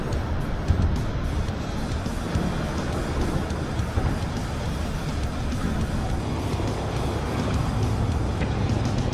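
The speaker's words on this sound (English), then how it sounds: "listen to the rumbling of the cars above" Traffic on the I5 interstate rumbles overhead, heard from beneath the elevated roadway in Seattle as a steady low drone with faint passing swells, moderately distant and continuous.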